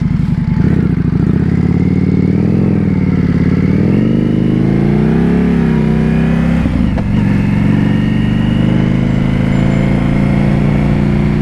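A loud motorcycle with an aftermarket exhaust rumbles steadily close by, with deep throaty exhaust tone rising and falling through a few revs.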